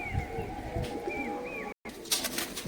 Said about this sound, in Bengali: একদম সুন্দর একদম জাতের কবুতর রয়েছে